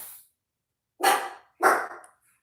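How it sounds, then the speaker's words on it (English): A dog barks three times, sharp and fairly close, with short silent gaps between the barks. "What are you barking at, Sam?"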